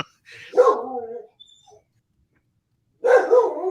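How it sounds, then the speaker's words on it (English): A dog barks close by in two short bursts separated by a quiet gap, with a whimpering, yippy quality to the vocalizations. "Is that your dog?"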